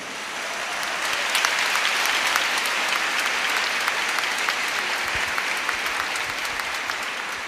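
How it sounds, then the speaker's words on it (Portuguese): A church congregation claps during a sermon, loud dense applause holding steady for several seconds without talk. "Pode aplaudir a palavra."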